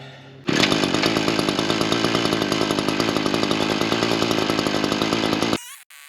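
A Wild Badger 52cc gas chainsaw roars loud and close, kicking in abruptly and holding a steady, buzzing high-revving drone for about five seconds before cutting off sharply.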